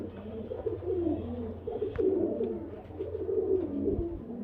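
Male Murshidabadi Giribaz pigeons coo in a continuous, overlapping series of low, throaty calls close by, with a soft bump or tap near the middle and steady low hum underneath.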